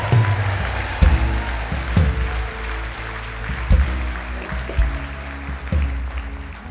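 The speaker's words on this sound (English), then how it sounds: "Come on, you give an Easter clap." Easter Sunday congregation clapping in a church, with sharp, spaced claps and thumps standing out over low sustained instrumental tones that continue underneath.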